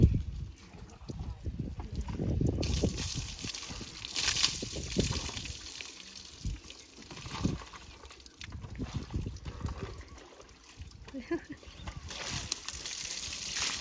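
Water sloshes and splashes as an animal is bathed, with uneven bursts of pouring and splashing that rise and fall for over ten seconds. People talk intermittently over the water.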